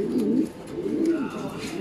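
Imported giant Hungarian house pigeons coo nearby in two low rolling phrases, with faint background noise.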